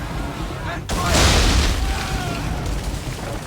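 Ship cannons fire in Assassin's Creed III, one heavy booming blast followed by a long rumbling roar that fades slowly, loud and close, with voices under the battle noise.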